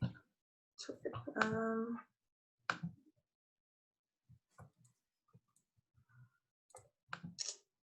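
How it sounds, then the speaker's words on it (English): A computer mouse clicks a few times, sparse and quiet, just after a short burst of speech during an online meeting. "I'm clicking resume share, it's not working."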